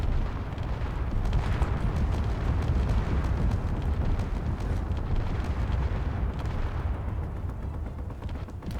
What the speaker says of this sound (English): It's the explosions.